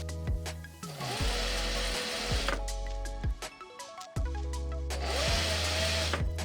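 A sewing machine stitches a linen top in several loud, fast bursts of whirring, stopping and restarting between runs, close up with no talk.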